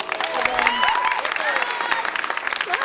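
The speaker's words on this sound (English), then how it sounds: "A round of applause for him." Audience at a high school spring concert applauds a percussionist, loud dense clapping with some cheering, and voices talking over the clapping.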